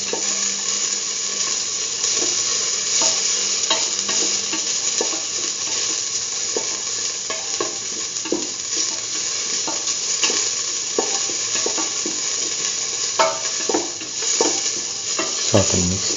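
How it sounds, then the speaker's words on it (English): Curried lentils sauté in a pan with a continuous close sizzle, broken by frequent scraping strokes of a spoon as they are stirred throughout. Nobody speaks. "Saute and mix thoroughly."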